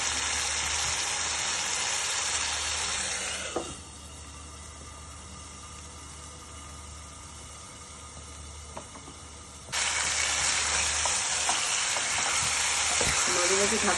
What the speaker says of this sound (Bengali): মাঝে মাঝে ঢাকা দিয়ে এরকম নেড়ে নিতে হবে, ভালো করে কষাতে হবে